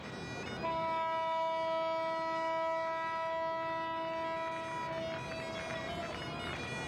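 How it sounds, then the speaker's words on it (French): Sustained, steady siren-like horn tones from yachts and boats in the harbor at Monaco welcome arriving Latécoère seaplanes, a loud, continuous chorus holding for several seconds and then fading slightly. "le raid Latécoère hydravion est accueilli par les sirènes des yachts"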